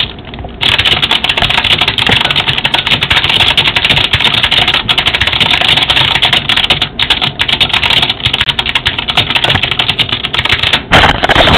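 Rapid, dense keyboard typing fills the whole stretch, close and loud, a steady clatter of keystrokes with brief gaps and no talking.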